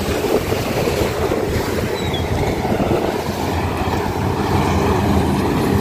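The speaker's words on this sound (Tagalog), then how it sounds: "Lakas po kasi nung hangin talaga, oh." Strong, steady typhoon wind from Tropical Storm Kristine in Masbate roars and buffets the microphone continuously, with a deep rumbling, gusty texture and no voices.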